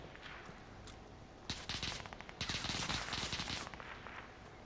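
Rapid bursts of automatic gunfire in a video game, faint and distant, with a short volley followed by a longer sustained stretch of fast shots over quiet background ambience.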